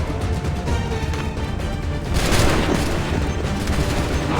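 Musket volley fire in Assassin's Creed III: a loud, crackling burst of many muskets discharging together, rising suddenly after a rumbling battle din and rolling on as a dense fusillade.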